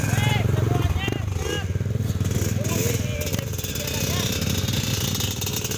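Motorcycle engines buzz and rev loudly and continuously at an illegal street race circuit in Subang, with a rattling, jackhammer-like drone, while voices talk and shout over the noise.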